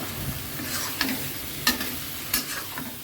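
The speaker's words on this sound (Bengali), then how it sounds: "সবজিটা কষানো হয়ে, মশলাটা কষানো হয়ে গেছে। এখন আমি সবজিটা দিয়ে দিলাম" Vegetables sizzling in a pan of spice masala as they are stirred, a soft continuous fry with three sharp scraping strokes of the spoon spaced about a second apart.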